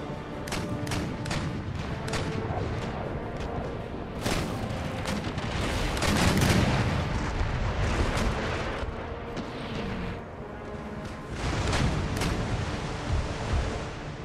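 Naval cannon fire in Empire Total War, a dense rolling barrage of heavy booms and cracks that overlap continuously, swelling in several louder waves as broadsides go off, with no voices.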